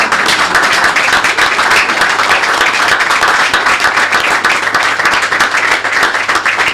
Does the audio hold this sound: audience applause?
yes